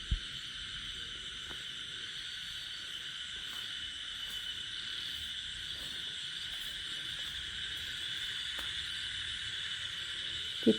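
Crickets and frogs drone in a constant nighttime chorus near Mussoorie, India, with a few faint knocks and clicks scattered through it.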